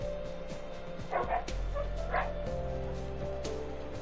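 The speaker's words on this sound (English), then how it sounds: "What are my dogs barking?" Dogs in the video game Minecraft bark and yip in short, quick bursts over a steady game drone, with a few whimpering notes mixed in, fairly close and moderately loud.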